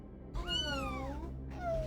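A cat meow sound effect played as a stream redeem: one drawn-out, rising-then-falling meow, followed by the start of a second meow, heard over a low background hum.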